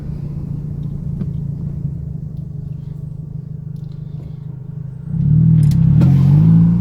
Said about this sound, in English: now I need to wait for this flipping car to come through